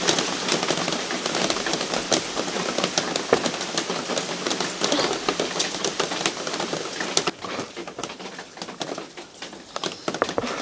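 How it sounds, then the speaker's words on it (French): Heavy rain pours outdoors onto a garden of potted succulents, a dense, continuous hiss and patter that stays steady throughout with no voices over it. "Moi qui disais qu'il n'y avait jamais de pluie, et ben là on ramasse."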